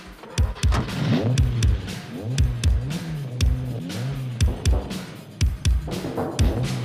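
A car engine revs repeatedly in a driving sequence, with rising and falling pitch sweeps, sharp shifts and clicks between bursts, loud and close throughout.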